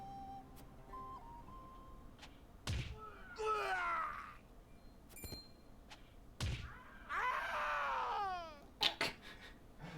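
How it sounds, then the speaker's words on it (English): Two bursts of screaming voices in the video game Triangle Strategy, each a rising then falling cluster of shrill cries, separated by heavy thuds and sharp impacts, loud against a low background hum. "These are some great screams."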